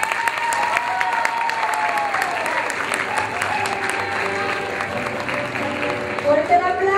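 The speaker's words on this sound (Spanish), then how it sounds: "Fuerte el aplauso para Jackie Ponte de Guadalajara" Lively applause from the crowd at a Miss México USA pageant evening, a thick bed of clapping with musical tones rising through it and a few sharper bursts near the end.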